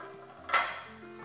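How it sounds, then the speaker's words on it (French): A single bright clink of a utensil against a dish while black pepper and salt are mixed together, followed by faint soft scraping in a quiet kitchen. "Je mélange le tout"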